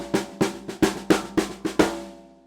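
A seven-stroke linear drum pattern plays as a steady run of seven crisp, evenly spaced hits, close and fairly loud, with the last stroke left to ring and fade; no voices.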